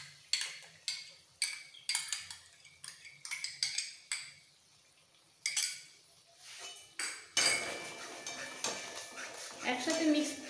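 A spoon stirs whisked sour yogurt into a prawn curry spice paste in a pan, making repeated clinks and scrapes in an uneven rhythm, followed by a sizzling mix.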